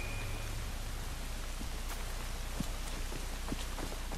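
Steady rain falls in a London street scene in Assassin's Creed Syndicate, a constant hiss of drops on surfaces with scattered sharper splashes, fairly soft and continuous with no voices.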